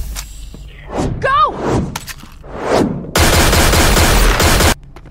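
Gunfire from the video game Tales from the Borderlands, heard as a loud, dense burst of rapid shots lasting over a second, after a stretch of voices and impacts.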